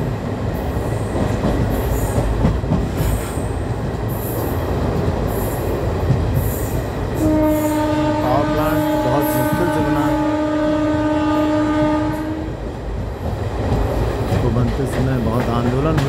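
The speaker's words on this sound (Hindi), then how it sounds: "बिल्कुल आ गई है ट्रेन।" A train pulls into Shankargarh station near Prayagraj, rumbling loudly with wheel and carriage noise throughout, while a steady horn tone sounds for about five seconds in the middle; someone speaks over it.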